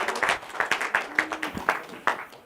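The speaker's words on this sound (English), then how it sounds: "How about a round of applause for those musicians?" Congregation in a church giving the volunteer musicians a round of applause, with moderate, scattered clapping and distinct individual claps rather than a dense roar, plus a brief murmur partway through.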